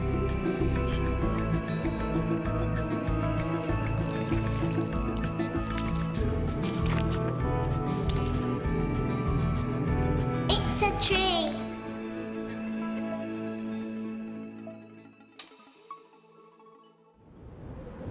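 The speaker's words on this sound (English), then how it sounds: "pour some more paint over the top" Green paint is poured over shapes with a thick, wet squishing and dripping, loud and close, then trails off into a few final drips and splats.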